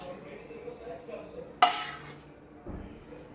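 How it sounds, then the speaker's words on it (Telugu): Fried mango pulp being stirred into cooked rice for mango pulihora: soft scraping and mixing in a pan, one sharp utensil clink against the vessel, then more stirring, fairly close and quiet. "ఇప్పుడు మనం ఈ రైస్లో కలిపేసుకుందాం."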